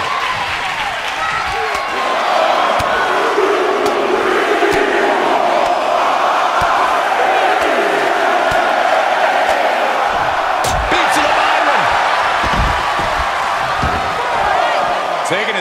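Arena crowd noise from a WWE 2K23 wrestling match between Roman Reigns and Randy Orton: a steady, loud roar of cheering and applause with impact thuds, heard under a commentator's voice.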